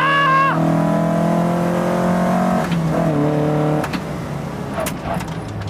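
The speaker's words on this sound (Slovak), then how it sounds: "pozorujem tú zmenu správania auta s rastúcimi otáčkami" A Toyota Celica race car engine fitted with twin Weber carburetors revs up and holds high, harmonic tones dropping as it eases off, then blips again with clicks and rattles; loud and close, no talk.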